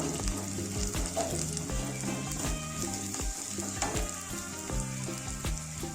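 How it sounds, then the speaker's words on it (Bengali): Onion frying in oil in a pan, a steady soft sizzle with faint clinks of stirring throughout, close by and without talk. "পেঁয়াজটা একটু ভেজে নেব"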